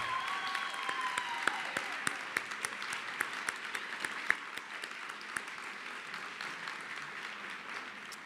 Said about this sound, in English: you can give her an applause if you want